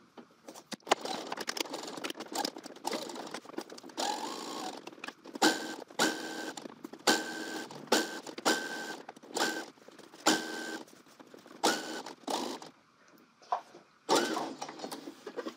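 A sewing machine stitching a coat runs in repeated short bursts of whirring and clatter separated by brief pauses, close and moderately loud with no talking.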